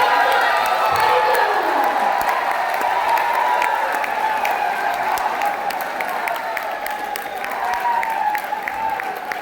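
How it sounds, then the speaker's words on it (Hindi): Audience at a 26th anniversary celebration in Jaipur claps and cheers loudly for Inspector Aarti Yadav, with sustained dense applause, whoops and crowd noise throughout. "बहुत जोरदार तालियां इंस्पेक्टर आरती मैम के लिए"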